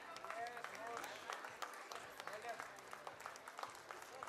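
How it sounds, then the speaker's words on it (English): Audience applause at a school cultural night, scattered clapping with sharp individual claps in an uneven rhythm, fairly faint with some background voices. "Please clap harder for his dedication."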